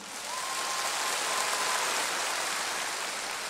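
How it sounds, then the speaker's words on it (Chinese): A concert audience at a Cantonese pop show applauds in a dense, steady wash of clapping that swells quickly and holds for several seconds without talk. "俾啲掌声我听下先。"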